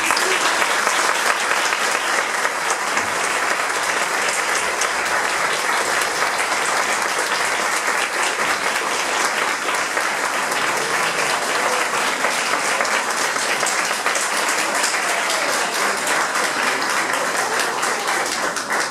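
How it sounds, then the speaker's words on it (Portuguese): Sustained audience applause for graduating comedy improv students at a showcase, dense and steady clapping from a large crowd filling the room, continuous and even in loudness for the whole stretch with no voices standing out. "quero que ambos os lados tenham uma salva de palmas para a turma de formandos de Improviso em Comédia"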